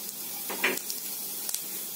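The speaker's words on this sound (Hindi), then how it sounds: "अब हम सेम कढ़ाई में डालेंगे 2 बड़े चम्मच तेल, 1/2 चम्मच जीरा" Oil and cumin seeds sizzling in a kadai, a close, steady hiss with a sharper crackling flare near the start and a few small pops, no talking.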